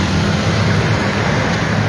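Road traffic on a busy evening street with motorcycles squeezing past, a steady, dense engine rumble and hiss with no pauses.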